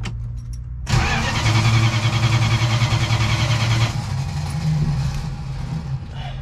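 A 1968 Dodge Charger engine cranks and fires up quickly, then runs with a loud, steady rumble that eases into a slightly quieter idle, no talking over it.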